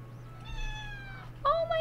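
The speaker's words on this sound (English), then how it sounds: "Did you guys hear that meow?" A cat gives a soft, short meow, then a brighter second meow close by near the end, over a quiet indoor room with a low steady hum.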